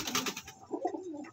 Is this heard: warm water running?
no